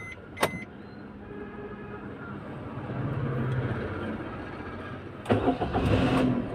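A car engine cranks and catches near the middle, then settles into a low, fairly quiet idle inside the cabin, with a couple of sharp clicks and clunks at the start and end.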